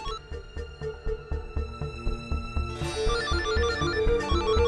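A telephone ringtone plays as a repeating electronic melody with a steady pulsing beat, moderately loud and close, swelling into a fuller tune toward the end with no voices.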